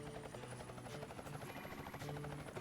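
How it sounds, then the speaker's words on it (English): A helicopter in the video game Ty the Tasmanian Tiger 2 produces a steady, loud rotor chop that continues unbroken, with no voices. "we're picking up crocodiles in a helicopter"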